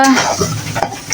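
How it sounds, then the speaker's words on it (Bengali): Chili and onion frying in a pan sizzle loudly at close range while a utensil stirs and scrapes them in a short burst, with light metallic clinks. "হয়ে গেছে মরিচ পেঁয়াজ ভাজা"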